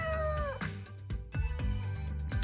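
A cat meows in the mobile story game Choices: Stories You Play, a drawn-out, wavering cry over a steady background music bed, followed by softer soundtrack beats.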